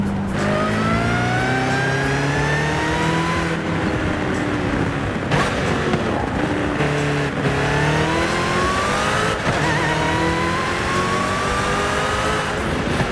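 A 2019 Jaguar XE SV Project 8 in Forza Horizon 5 revs hard through repeated rising sweeps, its supercharger whine riding high over the loud engine drone. Short dips mark each gear change, with no talk over it.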